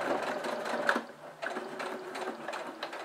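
A sewing machine stitches a faux leather multi-purpose pouch in steady mechanical bursts, close and moderately loud, with a short pause partway through before the needle runs again.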